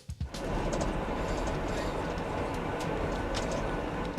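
A steady, loud rumbling roar of a train rolling along the rails, continuous and close, with faint rhythmic clicks over the din.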